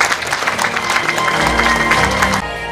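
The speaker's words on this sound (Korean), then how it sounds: "여러분 조금 더 합창 박수 부탁드립니다." An audience at a groundbreaking ceremony for an agricultural cooperative building applauds in a brisk, dense round of clapping that cuts off abruptly near the end.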